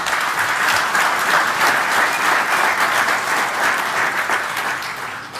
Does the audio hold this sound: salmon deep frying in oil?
no